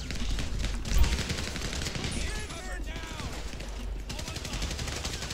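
Heavy automatic gunfire during an armored car robbery shootout in the police game LSPD First Response, rapid sustained bursts with a heavy low thump near the start, plus whizzing sounds layered through the continuous fire.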